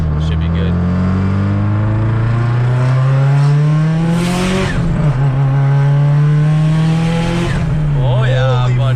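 A big-turbo Subaru STI on its first drive accelerates hard through the revs, the engine note climbing loudly and steadily with the turbo boost coming on, close and dominant throughout.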